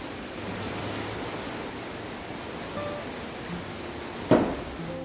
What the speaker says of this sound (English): Rain on the polycarb roof is similar to on a metal roof.